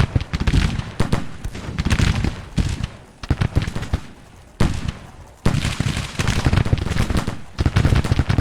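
Civil War musket volleys from the Grand Tactician strategy game crackle in dense, continuous bursts with overlapping shots, swelling and fading in waves and occasionally dropping to brief lulls, loud throughout with no speech.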